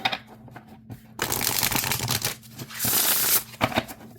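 Playing cards being shuffled in bursts, riffling and rapid flicking close up, with short pauses between shuffles.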